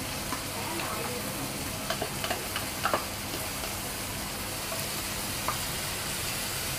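Onion, tomato and ginger-garlic paste fry in a pan, giving a soft steady sizzle with occasional scraping stirs and light clicks, fairly quiet and without talk.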